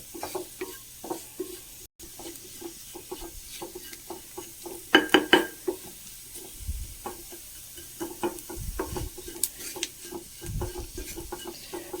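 Spice powders, including fennel powder, are stirred and sautéed in a frying pan, with a steady run of scraping spoon strokes over a soft sizzle, close and moderately loud.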